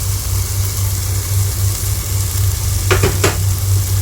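Chicken curry masala with a spoonful of yogurt being stirred in a pan, a steady sizzle and frying hiss throughout, with a few sharp scraping strokes of the spoon near the end, close and fairly loud.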